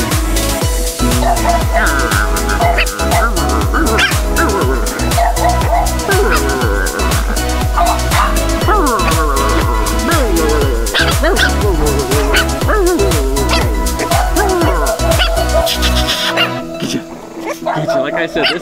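French bulldog puppies from a litter of lilac, chocolate, blue and merle coats yip and whimper in steady overlapping bursts close by, under a person calling to them.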